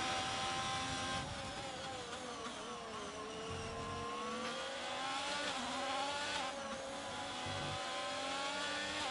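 Many race cars running close together in a sim racing game at an Australian round, engines droning and shifting pitch continuously at steady loudness with no talk.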